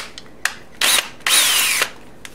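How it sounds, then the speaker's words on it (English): A power drill bores through the soft aluminum engine casing of a 1973 Honda CB750 custom build, with short whirring bursts and two longer high-pitched runs, close and loud, with no talking. "Drill's really easy, it's pretty soft aluminum."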